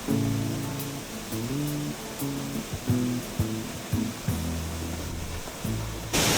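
A waterfall at the foot of Mount Rinjani on Lombok rushes in a steady, even hiss under a layer of background music, with a sudden louder burst at the very end.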